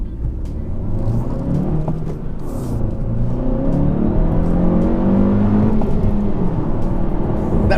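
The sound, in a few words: 2017 Honda Civic Si engine revving with rev hang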